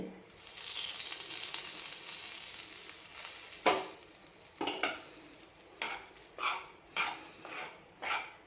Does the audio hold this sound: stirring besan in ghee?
yes